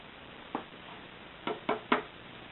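Embossing powder tapped off cardstock: one soft knock, then three quick light taps close by in a quiet room.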